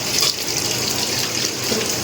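A household tap runs in a steady, close gush of water for washing up after dinner, constant and fairly loud from start to finish with no talking.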